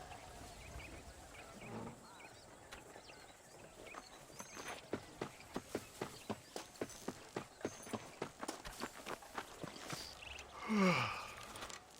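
Horse hooves clip-clop in the video game Red Dead Redemption, a steady even rhythm of distinct hoofbeats at a walking pace, joined by a brief swelling tone near the end.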